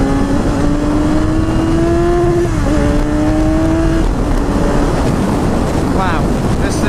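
A 2016 Kawasaki Z1000 motorcycle at speed on an open road, its engine drone rising in pitch and briefly shifting under loud, constant wind roar across the microphone.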